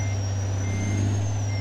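Steady high-pitched reversing beeps from a truck backing up in American Truck Simulator, a continuous tone over a deep idling engine drone, loud and close with no talk.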